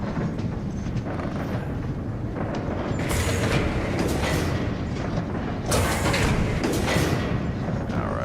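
A train rolls along rails in a video game, a steady loud rumble and clatter throughout, with rattling, swelling bursts partway through and again near the end.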